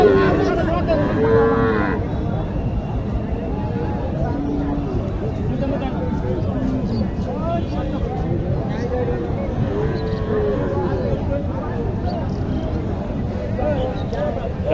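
A Sahiwal heifer at a busy cattle market in Naogaon moos repeatedly and loudly close by, while people talk continuously around it amid steady market bustle.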